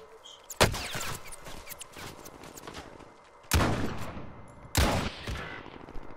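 Video game gunfire, with three sharp, loud bursts of rapid shots spread across the clip and quieter background noise between them.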